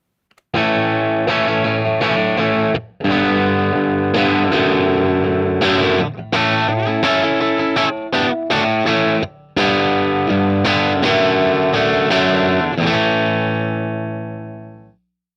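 An electric guitar runs through a distorted amp miked at the center of the speaker cone, playing loud chopped chords and riffs with brief gaps, then ringing out and fading.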